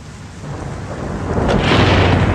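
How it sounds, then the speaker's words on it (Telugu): Thunder rolls in low and heavy as rain begins at nightfall, the rumble and rushing downpour swelling steadily louder over a couple of seconds. "వాన మొదలైంది. చీకటి పడింది."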